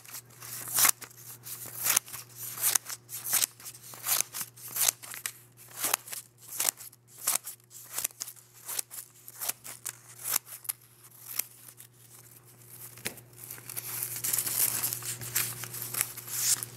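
Scissors snipping through long strips of paper for a handmade paper flower, a steady run of crisp cuts and light crinkling, close and fairly quiet over a faint steady hum.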